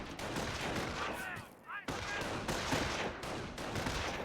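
Rifle and machine-gun fire crackles in a burst-heavy exchange during a Company of Heroes battle set in the Normandy invasion, steady rattling shots with a brief lull midway.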